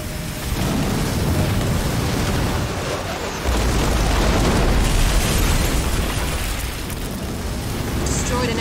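Enemy building blown to rubble in the real-time strategy game Halo Wars 2, a loud, sustained rumbling explosion with dense low boom, swelling midway and continuing under game battle noise.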